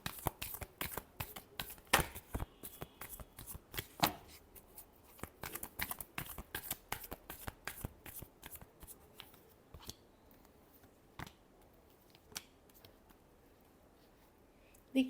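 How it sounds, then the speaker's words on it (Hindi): Tarot cards being shuffled by hand, a dense run of crisp riffling flicks and slaps that thins into scattered taps toward the end, close and clear with no talking. "Last shuffle."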